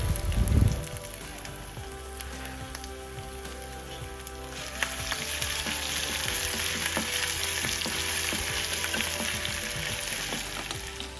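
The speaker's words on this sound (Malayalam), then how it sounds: "പടപട പൊട്ടുന്ന സൗണ്ട് കേൾക്കാൻ എന്ത് രസമാണ്" Dried red chillies and curry leaves crackle and sizzle in hot oil in a village kitchen pan for bilimbi pickle, a steady dense hiss with sharp scattered pops and an early louder clatter, no talk.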